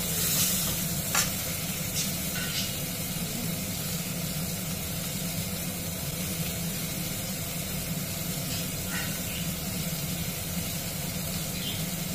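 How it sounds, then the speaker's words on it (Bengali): Loitta fish (Bombay duck) frying in oil in a pan, giving a steady, close sizzle throughout with a few faint clinks and scrapes of stirring. "এইভাবে এক এক করে সব মাছগুলো ভেজে নেব"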